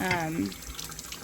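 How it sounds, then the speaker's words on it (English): Tap water runs into a sink to rinse sanding dust off a cup, a steady wash under a voice speaking at the start that soon falls away. "now that we've sanded, we have to wash the cup to get any of those particles off"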